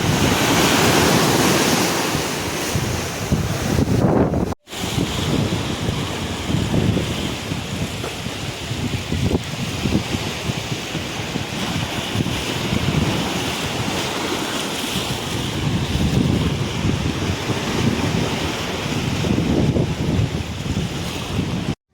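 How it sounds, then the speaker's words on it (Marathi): Sea waves breaking on Kasheli beach on a day of big surf, a loud, continuous roar of surging water mixed with heavy wind buffeting, carrying on for the whole stretch apart from one brief dropout, with no voices. "लाटा मोठ्या होत्या"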